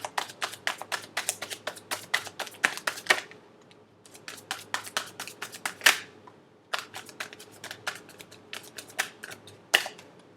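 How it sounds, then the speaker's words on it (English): Tarot cards being shuffled for a Sagittarius romance reading: rapid papery riffles and flicks in close, steady bursts, pausing briefly twice before resuming, with no talking. "Last shuffle."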